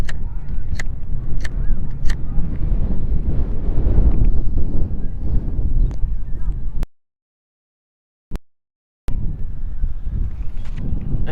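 Strong wind buffets the microphone at a cricket ground during a club first-division match, a loud steady rumble that cuts out abruptly for a couple of seconds before returning.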